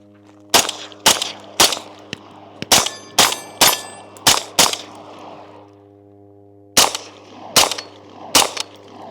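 Shots from an AR-15 rifle chambered in 5.7 ring out loud and close, about thirteen sharp reports in irregular bursts with a brief pause near the middle, each cracking report trailing a short ringing decay.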